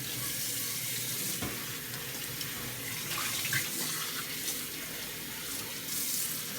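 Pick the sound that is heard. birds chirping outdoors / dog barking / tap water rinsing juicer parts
tap water rinsing juicer parts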